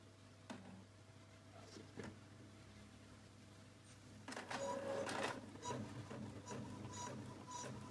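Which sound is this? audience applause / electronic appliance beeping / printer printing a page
printer printing a page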